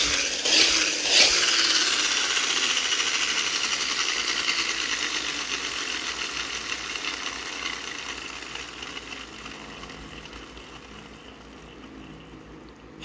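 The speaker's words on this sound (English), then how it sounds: "If you rev it up, just like so, and it sounds like an engine." A toy Ghostbusters Ecto-1 car from a 1990 McDonald's Happy Meal set gives off a steady whirring, buzzy mechanical drone after a revving start, slowly fading over about thirteen seconds.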